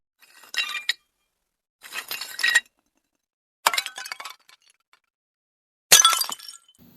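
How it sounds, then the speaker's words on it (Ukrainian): Four separate crashes of ceramic plates shattering, each followed by tinkling fragments, spaced apart with silence between. "Це звук розбитої тарілки."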